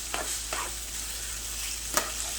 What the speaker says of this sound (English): finish frying up the rice